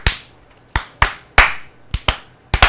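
Sharp hand claps, about eight of them in uneven bursts and pairs, close and crisp in a quiet room, with no talking over them.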